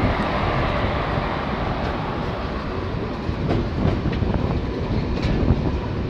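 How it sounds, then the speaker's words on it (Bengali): A coal-loaded freight train hauled with a banker locomotive rolls past, a dense, steady roar of wagons and wheels with faint clicks, sustained and fairly loud. "কয়লা বোঝাই মালগাড়ি।"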